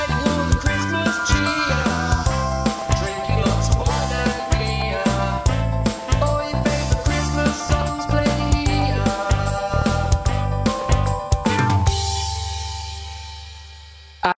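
A sung Christmas radio jingle with jingling bells over a dense, steady musical backing, with rhythmic beats throughout and a final held chord fading out near the end.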